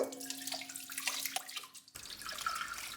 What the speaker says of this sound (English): I'm just gonna give it a very good scrub and wash.